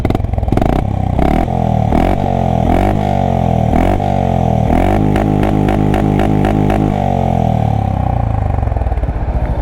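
A Honda H'ness CB 350 motorcycle idling in neutral, its exhaust giving a deep, bassy thump with a few throttle blips, close and loud, with no voices.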